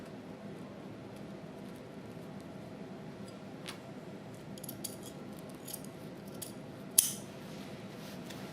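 Scissors snip through chasuble fabric with quiet crisp cuts scattered through the second half, one sharper snip standing out, faint over low room hum.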